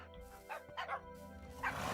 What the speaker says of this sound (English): He's got a load of dogs as well.